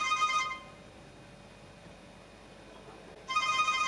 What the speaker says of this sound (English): Just received a phone call.